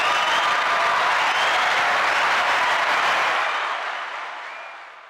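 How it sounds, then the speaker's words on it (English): A crowd applauds for the Knicks with loud, dense, continuous clapping that holds steady for several seconds, then tapers off toward the end. "clap it up, clap it up for our Knicks"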